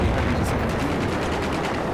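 Dense, continuous gunfire in the video game Battlefield 4, a loud close rattle of rapid shots filling the whole short stretch without talk.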